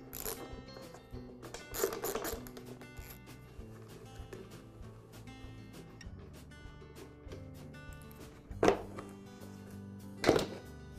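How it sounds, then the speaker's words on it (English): Bolts come off the pump cover of a Campbell Hausfeld air compressor with quiet ratcheting and scraping tool sounds, broken by a few sharper metallic clunks near the end, close up and with no speech. "Now I'll remove the front pump cover. It's held in place with just a couple of bolts."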